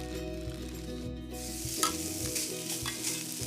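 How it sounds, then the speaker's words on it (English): Steaks sizzle loudly in a hot pan, a continuous close crackle with a few sharper pops and stirring sounds, no voices. "If you don't hear a sizzle as you add the steaks, you need to wait."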